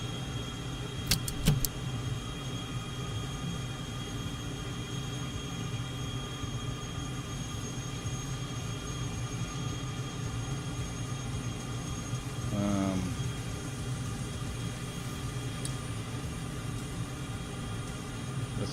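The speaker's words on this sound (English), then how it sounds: "Alright, both engines are running." F-14 Tomcat twin jet engines idling in Microsoft Flight Simulator on a carrier deck, a steady droning hum with a faint tonal whine and a brief rising tone partway through.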